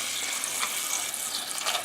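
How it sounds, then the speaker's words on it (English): Water runs steadily from a kitchen tap into a pot of pasta, a continuous hissing splash heard close up with no pauses or voices. "Then you use the tap, add the water in it."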